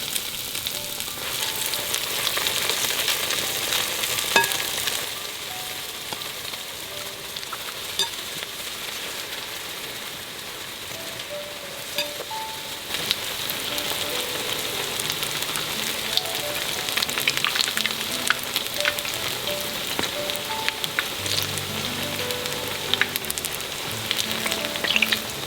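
Thin zucchini slices in an egg-white batter deep-fry in hot oil, giving a dense, steady crackle and sizzle close by. The bubbling rises and falls slightly over a long stretch with no voices.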